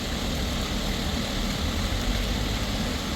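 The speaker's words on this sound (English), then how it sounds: "I'm just use a drone" A large farm drone, used over cherry trees, flies nearby with a continuous loud buzzing, propeller-like drone that holds steady throughout, with no talking.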